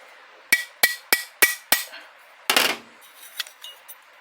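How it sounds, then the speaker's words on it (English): A pin in a Ford BF/FG automatic transmission planetary gear is tapped down with five sharp, evenly spaced metallic knocks, followed by a brief clattering rattle and a few faint ticks. "pushing the pin down because I've located the thrust washer"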